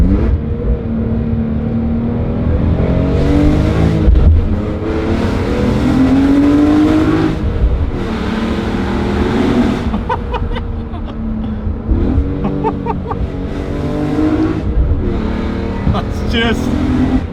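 A loud BMW E46 M3 CSL engine revs hard and drones close by, pitch climbing and dropping through repeated gear changes.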